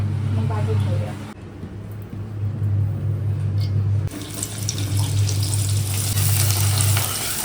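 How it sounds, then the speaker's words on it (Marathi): Onions fry in a pan for a tempering, with a moderate sizzle alongside running tap water and a low hum. A person talks over the cooking. "पहिले मस्त आपण कांद्याची फोडणी देतो."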